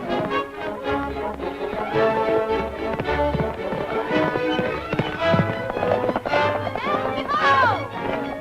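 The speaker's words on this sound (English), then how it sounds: "Hey, that horse is running away with her." Horse hooves clip-clop in a quick run as the animal bolts, set within a 1938 western film scene, the beats mixed under background music and voices.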